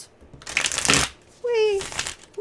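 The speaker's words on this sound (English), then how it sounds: "We're gonna do a couple shuffles." A deck of tarot cards being shuffled by hand, quick riffling bursts close up, with a voice briefly heard between shuffles.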